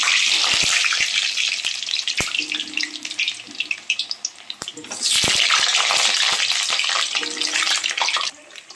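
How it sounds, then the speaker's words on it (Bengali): Loud, close hiss and crackle of cut potatoes frying in hot mustard oil in a kadai, with sharp clicks and clatter as pieces are stirred. "মাংসে আলু ভাজার জন্য আমি একটা কড়াইতে পরিমাণ মতো সরষের তেল দিয়ে নিয়েছি"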